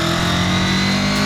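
2000 Honda VFR 800 Interceptor V4 engine revving under a throttle twist, a loud close roar that holds strong across the short burst.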